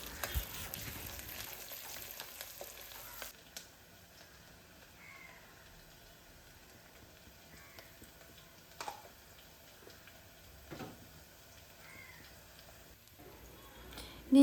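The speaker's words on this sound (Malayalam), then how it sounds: "ഇപ്പോൾ ഇത് നല്ലോണം ഇളക്കി കൊടുക്കാം." Spices frying in oil in a pan for a green plantain dish are stirred, giving a low steady sizzle with a few brief scraping clicks, moderately close and fairly quiet, with no one talking.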